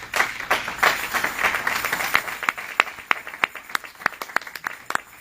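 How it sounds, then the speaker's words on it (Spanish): A church congregation applauds during an evening service, dense clapping at first that thins into a handful of distinct, separate claps near the end, with no speech. "Denle un aplauso al Señor en esta noche."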